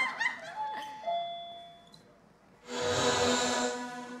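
A doorbell chimes in a house, a few clear ding-dong tones ringing out and fading, followed by a louder burst of background noise.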